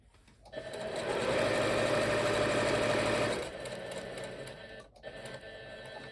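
Close sewing-machine stitching on a small fabric coaster: a loud, fast whirring run of a couple of seconds, then a quieter, slower stretch of stitches with a brief pause near the end.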